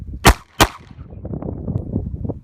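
Two sharp pistol gunshots fired close together near the start during a concealed carry shooting qualification on a range, followed by a low murmur of background noise.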